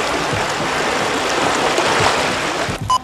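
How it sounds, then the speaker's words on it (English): A river flows in the background of a fly-fishing outing, a steady broadband rush of water that holds throughout at moderate level and drops away briefly near the end. "There's a river in the background, maybe."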